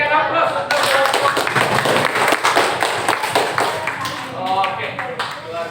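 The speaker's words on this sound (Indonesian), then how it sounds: "Ya, berikan aplaus." A class claps for a group's presentation, with a scattered but steady patter of hands from a room of students while a voice talks over it.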